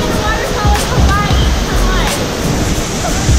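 Waterfall at Waikamoi Stream on Maui's Road to Hana, a steady broadband roar of falling water filling the whole clip, with voices chattering faintly underneath.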